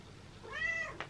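A cat gives a single close, drawn-out meow with a rising then falling pitch, faint against a quiet room, followed by a brief soft noise.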